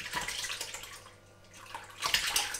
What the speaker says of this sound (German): ich hänge da jetzt in den anderen Topf so ein Geschirrtuch rein und gieße jetzt die ganze Mische erstmal da rein